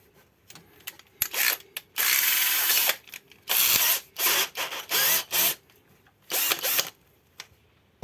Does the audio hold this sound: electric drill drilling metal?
yes